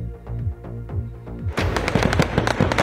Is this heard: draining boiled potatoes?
no